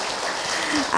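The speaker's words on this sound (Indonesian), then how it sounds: "Tepuk tangan." Applause from an audience at an Islamic women's study group gathering in Tangerang, a brief dense patter of clapping with a voice rising over it at the end.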